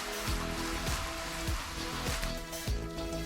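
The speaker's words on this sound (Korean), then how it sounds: "비가 와서 흠뻑 적시듯이 물을 줍니다." Water poured generously over potted succulents like rain, a steady, loud, continuous patter and splash throughout with no break.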